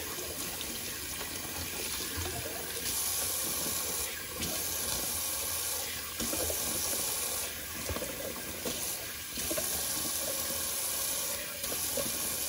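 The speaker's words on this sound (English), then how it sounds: "let's do a little cold water rinse." Cold water runs steadily from a tap into a sink with a constant splashing hiss, briefly interrupted a few times as a face is rinsed after shaving.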